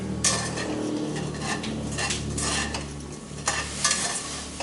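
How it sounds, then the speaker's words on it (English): Spices for vegetarian dirty rice toasting in a hot pan, a steady close sizzle broken by repeated scraping and clinking of a utensil against the pan. "I like to bloom my spices. So I'm dumping my spice platter in."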